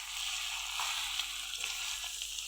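Pork simmering and frying in a covered pan over a gas flame, a steady close hiss and sizzle with faint stirring clicks.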